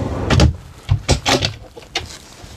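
Drawers in a Mobilvetta Tecknoline 64 integral camper van slide and thud in a quick run of knocks and rolling scrapes, close and moderately loud, with no voices.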